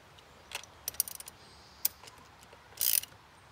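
A nut is snugged down on a battery terminal with a few quick ratchet clicks and metallic taps, then a brief harsher burst of clicking, all close and fairly quiet.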